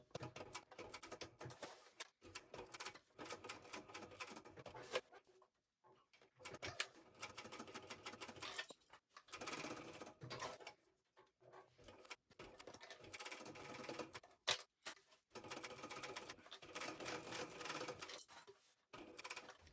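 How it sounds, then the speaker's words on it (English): A sewing machine stitches a small wallet at a 3.5 stitch length, running in steady bursts of rapid mechanical chatter with short pauses between runs, close and fairly quiet with no talking. "Back stitching at the beginning and the end as well."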